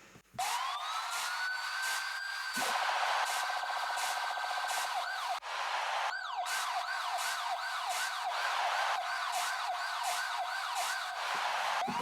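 A loud wailing siren effect rising and falling continuously, layered over a rapid pulsing beat in an electronic music track.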